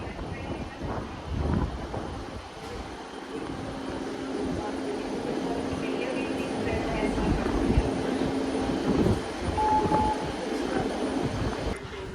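A CrossCountry Voyager train rolls through Dawlish in the rain, a steady broad rumble and rush that stays loud for the whole stretch, with faint wind and outdoor noise around it.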